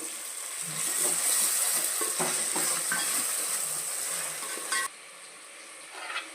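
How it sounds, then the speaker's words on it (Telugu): Ginger garlic paste fries with tomatoes in a pan for prawn biryani, giving a steady sizzle with scraping and stirring clinks, then drops to a quieter hiss near the end. "ఇప్పుడు అల్లం వెల్లుల్లి పేస్ట్ వేసేసుకుందాము ఇది కూడా బాగా వేగనివ్వాలి"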